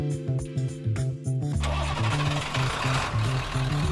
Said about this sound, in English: Start your car within 60 seconds before the internal timer powers off the unit.